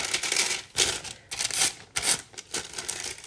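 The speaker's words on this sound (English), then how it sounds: "Fold it up." A circle of parchment paper is folded by hand, giving crisp, close crinkles and rustles in a few short bursts.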